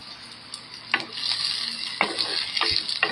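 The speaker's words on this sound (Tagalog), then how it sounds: "Ayan, ginigisa ko po siya." Onion, ginger and tomato sauté in a hot pan with a continuous sizzle, and a few scraping stirs land about once a second near the end; close, moderately loud, no talking.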